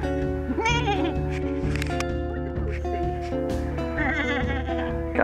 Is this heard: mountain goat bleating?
yes